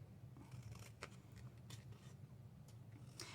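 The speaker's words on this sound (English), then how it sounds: "watching me struggle to cut the template" Scissors cut through a paper template in quick uneven snips, faint and close over a low background hum, with a brief pause between the short cutting bursts.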